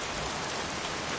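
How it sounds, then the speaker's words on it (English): Steady, dense rainfall in a detective video game set near a construction site with a bulldozer, an even unbroken hiss at fairly close range with no other sounds. "Jeez, won't this rain ever let up?"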